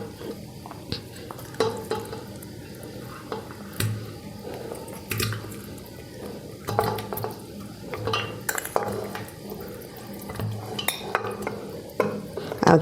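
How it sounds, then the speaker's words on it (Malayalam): Beef bones dropped into a pressure cooker, with scattered clinks, knocks and wet squishy handling sounds of metal and bone at close range, no talking. "ഈ എല്ലിനെ നമുക്കൊന്ന് കുക്കറിലേക്ക് ഇട്ട് കൊടുക്കാം"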